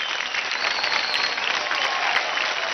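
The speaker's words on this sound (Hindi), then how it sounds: "ज्यादा ताली बजाएं आशुतोष और सपना के लिए" Studio audience applauding dancers on a televised dance competition, a dense, steady wash of clapping with faint crowd cheers throughout.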